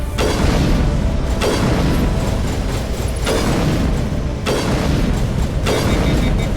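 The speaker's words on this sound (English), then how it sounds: "Here it comes. Slowly flinging the grenade at you." Grenade explosions in Mass Effect Legendary Edition, loud booming blasts repeating every second or so over a dense rumble of combat noise.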